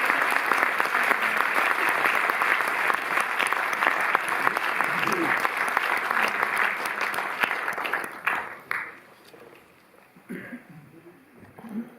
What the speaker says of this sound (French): Je prie d'applaudir Amos Gitaï.